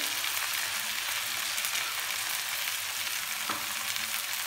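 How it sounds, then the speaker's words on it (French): Garlic dropped into melted butter in a pan fries with a steady, close, even sizzle that holds throughout without talk. "Voilà, notre beurre est presque fondu. On rajoute notre ail"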